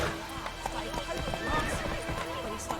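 Roach, a horse in The Witcher 3: Wild Hunt, trotting with quick rhythmic clip-clop hoofbeats and snorting, while a voice talks over it.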